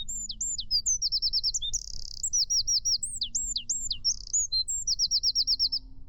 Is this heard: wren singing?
yes